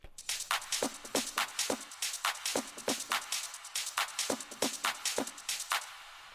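Techno drop drum pattern with sharp, regular percussive hits repeating at a steady driving tempo, fairly quiet and alone, fading out at the end.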